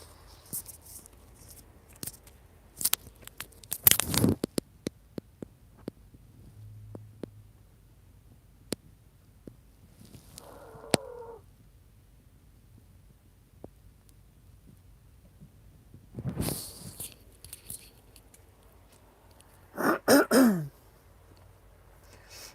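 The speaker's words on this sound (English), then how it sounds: "I got the sniffles, so I gotta blow my nose." Scattered quiet rustles and clicks, then several loud, short bursts of nose blowing, close by, with pauses between them.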